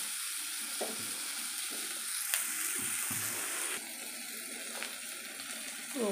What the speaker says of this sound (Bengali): এবারে বেগুনটা দিয়ে দেবো। ঠিক আছে, দিয়ে এবারে নাড়াচাড়া করে কিছুক্ষণ করে নামিয়ে দেবো।